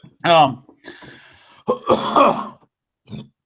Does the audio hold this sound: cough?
yes